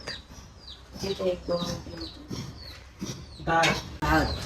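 Pigeons being handed over for sale give short chirping calls in the foreground, with people talking nearby.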